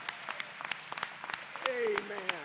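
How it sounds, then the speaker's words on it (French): Church congregation applauding during a worship service, a scatter of sharp, fairly quiet hand claps with a voice rising near the end. "Une fois encore, une bonne main d'applaudissements."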